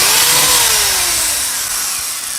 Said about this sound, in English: So go ahead and drill this hole.